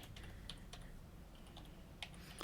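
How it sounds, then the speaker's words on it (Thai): Quiet, steady tapping on a computer keyboard, with irregular light key clicks over a soft room hum and no voices. "แล้วก็พิมพ์ข้อความที่คุณอยากจะใส่เลย"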